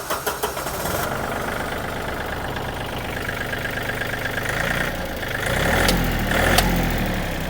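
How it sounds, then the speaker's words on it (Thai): Used 2014 Yanmar EF393T tractor's diesel engine idling steadily and close, with knocking pulses throughout and a brief rise in level near the end. "เดี๋ยวฟังเสียงเครื่องยนต์เลยค่ะ"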